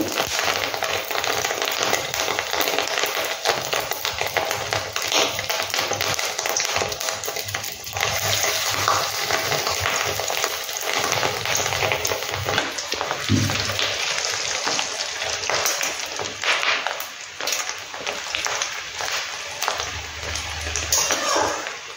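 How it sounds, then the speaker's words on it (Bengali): Rui fish roe koftas fry in a pan with a steady, loud sizzle and crackle that runs for the whole stretch, close up, with occasional soft clinks. "এভাবে ডিমগুলো একটু লাল লাল করে ভেজে তুলে নিতে হবে"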